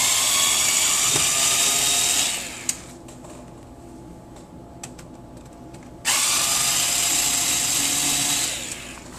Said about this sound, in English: Go ahead and remove the 2 screws holding down the LED board.